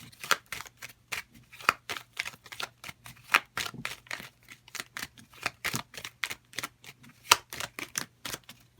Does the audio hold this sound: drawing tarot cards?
yes